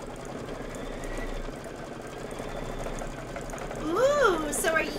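An embroidery machine stitches a satin outline in green thread, humming steadily with a fast mechanical rhythm under a voice talking throughout.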